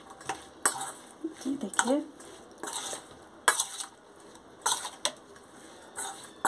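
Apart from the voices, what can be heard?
mixing green chilli pickle with lemon juice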